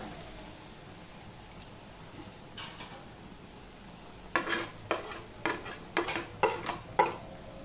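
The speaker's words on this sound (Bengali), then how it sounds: "এবারে যে আমি ম্যারিনেট করে রেখেছিলাম ঝিঙেটা, সেটা আমি দিয়ে দিলাম।" Marinated ridge gourd sizzles softly in a pan at first, then a spatula scrapes and stirs it in a quick run of loud rhythmic strokes over the steady frying hiss.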